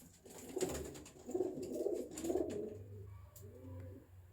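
A pigeon coos close by on a rooftop, a few soft rounded calls in a repeating rhythm, fairly quiet with no talking.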